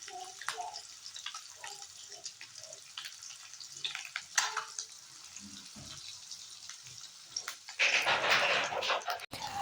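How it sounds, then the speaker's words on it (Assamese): Boiled, peeled eggs fry in oil with turmeric and salt, giving a faint sizzle with scattered stirring taps and scrapes before a louder, brighter hiss of frying swells near the end. "কণীকেইটা ভালকৈ একদম ফ্ৰাই কৰি ল'ম ৰঙচুৱাকৈ"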